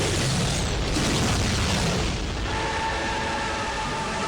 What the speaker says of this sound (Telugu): ఇక్కడ ఒక మహా పేలుడు సంభవించింది